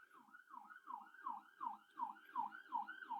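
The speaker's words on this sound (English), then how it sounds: "there's an ambulance passing by" An ambulance siren wails in a steady up-and-down cycle, about nine sweeps in a row, fairly clear and moderately loud as it passes, with no talking over it.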